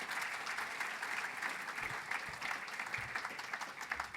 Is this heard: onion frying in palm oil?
no